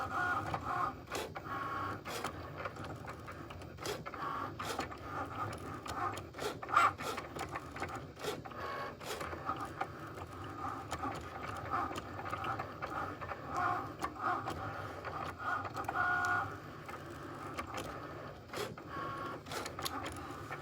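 A Cricut Maker cutting machine works through a design with a steady mechanical whir and busy ticking and clicking as the carriage moves back and forth. It runs continuously at moderate volume with no talk.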